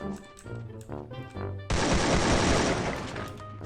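Rapid automatic gunfire from opposing players in a shooter game, a dense loud burst that erupts suddenly after a stretch of tonal game music and keeps rattling to the end.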